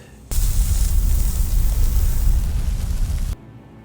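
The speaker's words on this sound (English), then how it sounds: "Sandstorm." A sudden roaring wash of noise, like wind-driven sand, blasts steadily for about three seconds and then stops abruptly.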